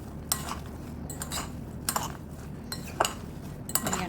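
Spoon or spatula clinking and scraping against a pan or bowl while tokwa sisig is mixed with coriander leaves, a few scattered soft clinks over steady low background hum.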